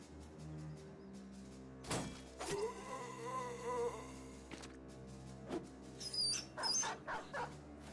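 A dog in the Battle Brothers video game barks sharply a few times, then yips and whimpers in high short cries, heard over a low steady game music drone.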